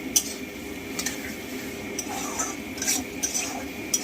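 Masala spice paste stirred and fried in a pan, a spoon scraping and tapping at a steady rhythm over a soft continuous sizzle, close and moderately loud, with no talking.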